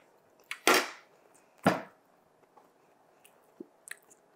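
Someone takes a bite of German chocolate poke cake, with soft cake, icing and a crunchy topping of coconut and pecans. Two close, wet chewing bursts are followed by fainter smacking and small mouth sounds.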